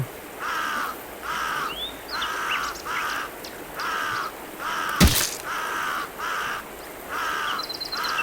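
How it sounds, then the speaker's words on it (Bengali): A cartoon crow caws in front of a house, sounding a steady run of evenly spaced, repeated harsh calls, broken once by a sharp crack midway. "কাকে সে আমাদের ঘরের সামনে ডাকছে কেন?"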